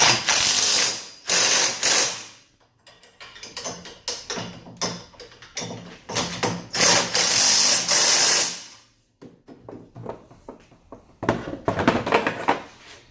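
Ratchet wrench tightening bolts on the lower legs of a CW Motorsports back-half roll cage in a home garage, rapid clicking bursts repeating in several close, loud runs with short pauses between.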